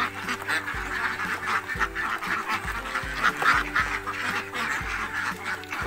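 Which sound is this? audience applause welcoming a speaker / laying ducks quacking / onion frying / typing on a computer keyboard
laying ducks quacking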